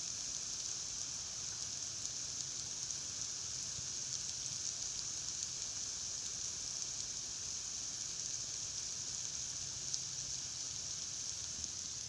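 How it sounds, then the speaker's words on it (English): Heavy rain pours down outside as a steady, dense hiss that stays even and unbroken throughout, moderately loud with no voices over it. "Can you guys hear that rain?"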